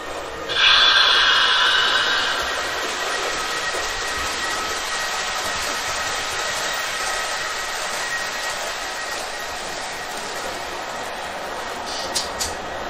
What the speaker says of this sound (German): Im Hintergrund hört man inzwischen den Doppelstock IC2 im Schattenbahnhof losfahren.